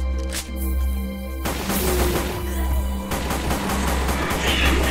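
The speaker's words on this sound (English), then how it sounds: "Tap firing, ladies and gentlemen. Tap firing." Gunfire in a zombie shooter game, loud and close, with a dense run of rapid shots and booms layered over a low steady hum and game sounds, continuing without pause.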